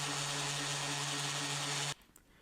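Random orbit sander clamped upside down in a vise or on a workbench, sanding small wooden toy parts: a steady loud motor whir with a constant hum that stops abruptly near the end, leaving only faint clicks.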